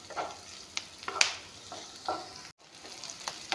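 Okra frying in a pan for a dry bhindi and egg fry with green chillies, the spatula scraping and stirring in short bursts over a steady low sizzle, close and fairly quiet with no talk.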